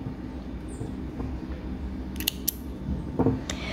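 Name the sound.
scissors cutting yarn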